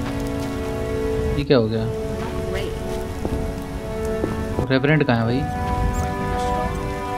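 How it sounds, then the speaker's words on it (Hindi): Steady rain patters continuously in the video game The Witcher, a dense hiss running throughout while someone speaks twice over it and faint game sounds mix in. "अच्छा ये बारिश"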